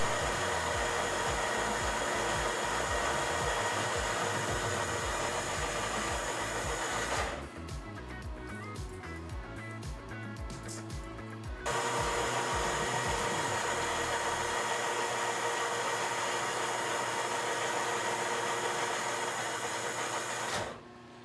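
A lathe turns a shoulder on a metal part for a chain sprocket repair, a steady loud whirring hum that drops to a rougher, quieter tone partway through and then returns, with no talking.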